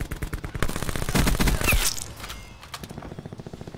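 Rapid automatic gunfire from a weapon in Call of Duty: Black Ops 4 rattles in fast, even bursts, pausing briefly in the middle, then resuming in quicker, quieter shots.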